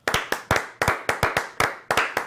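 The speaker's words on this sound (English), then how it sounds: "Round of applause for the Fertittas" A few people clapping close up on a sports podcast set, sharp distinct claps in an uneven rhythm, loud and alone.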